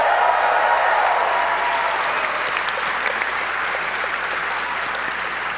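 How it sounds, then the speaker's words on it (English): A live audience at a PAX Unplugged board game podcast recording in Philadelphia bursts into loud, sustained applause, dense clapping that stays steady and alone for several seconds. "Round of applause, everybody!"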